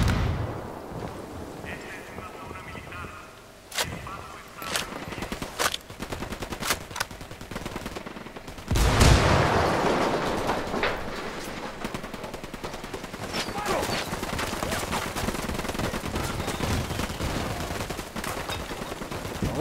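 Gunfire and sniper shots in the video game Ghost Recon Wildlands: sharp scattered shots crack out over a busy battle bed, with a heavy burst midway and steady rattling fire after, while voices shout beneath.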